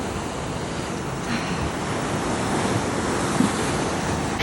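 Sea waves wash onto the beach in Odesa as a constant broad surf roar mixed with wind buffeting the microphone, with no talking.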